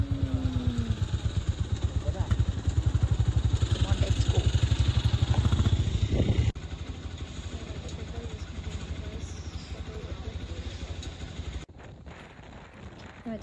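Motorcycle riding along, a steady throbbing engine pulse with wind rush, loud and near at first and then somewhat quieter, with people talking over it.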